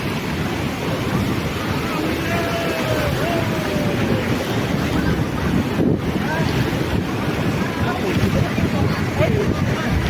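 Steady roar of big ocean surf at Puri beach with strong wind buffeting the microphone, continuous and loud throughout.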